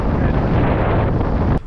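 Strong 26 mph wind on a cold October day buffets the microphone while someone cycles outdoors in the UK. It makes a loud, continuous roar that cuts off abruptly at the end.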